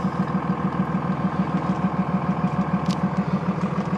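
A steady, throbbing diesel engine rumble with a regular low pulse, close and continuous, from a 2001 Dodge Ram Cummins diesel pickup with 6-speed 4x4 driving, with no voices.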